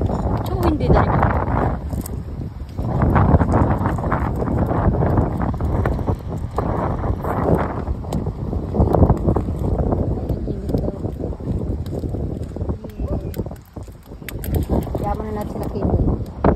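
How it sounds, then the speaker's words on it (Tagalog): Strong wind gusts roar across the microphone beside an outdoor bonfire at night, a loud continuous rumbling buffet that swells and dips, with people talking over it throughout. "Lakas ng apoy, lakas ng hangin."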